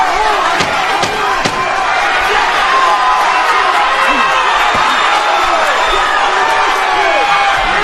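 A boxing arena crowd in Orlando roars and cheers loudly as the final round ends, with dense shouting, whistles and a few sharp bangs through a sustained wall of noise.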